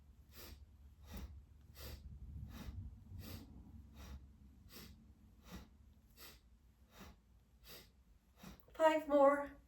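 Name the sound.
breathing in and out through the nose during yoga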